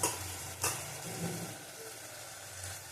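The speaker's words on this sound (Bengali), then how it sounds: "আঁচ কমানো আছে, কষানো হোক।" Food sautéing over low heat gives a steady soft sizzle with a few stirring clinks, close and continuous.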